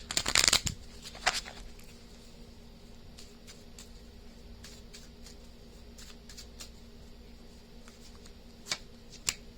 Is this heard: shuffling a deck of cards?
yes